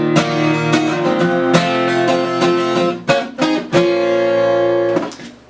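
Guitar plays the intro figure of a song, strummed chords ringing with a few quick muted chops in the middle. The sound is close and loud and fades at the end, with no voice.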